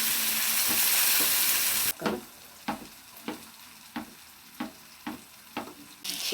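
Onion and tomato pieces sizzle in a hot pan for a burger filling, a loud steady frying hiss giving way to quieter crackling broken by regular scraping stirs about every half second.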